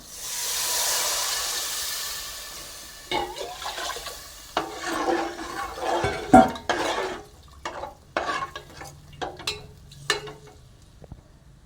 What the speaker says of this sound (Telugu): ఆ పులుసు ఇది ఇందులో పోసుకోవాలి